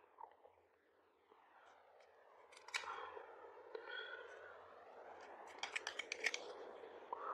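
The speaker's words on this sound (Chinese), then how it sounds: "第一步剪线，把破洞破的地方的线全部剪掉，" Scissors snip through fishing-net thread while a hole in a net is being mended: faint, sparse, close-up cuts with a couple of sharper clusters of snips over a quiet background.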